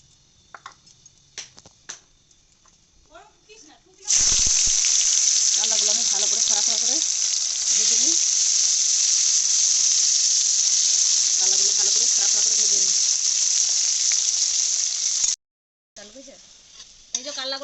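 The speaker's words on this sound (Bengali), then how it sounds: "কড়াইয়ে তেল দিয়ে দিয়েছি এবার আমি কাল্লাগুলো ছেড়ে দেবো" Vegetable pieces seasoned with salt and turmeric drop into hot oil in a kadai, setting off a loud, steady sizzle that runs unbroken for about eleven seconds before stopping abruptly, while a voice talks over it.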